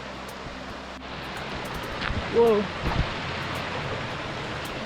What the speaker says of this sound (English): More waterfalls behind the trees.